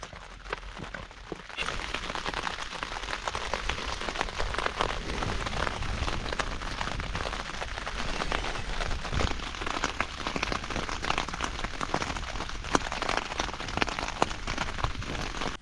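Rain patters steadily on a taut tent fly overhead, a dense close drumming of drops that continues without a break.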